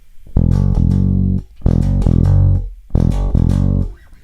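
A bass guitar riff in D is played in three loud, sustained phrases separated by short gaps, each opening with an open E grace note that is accented too strongly, with no talking.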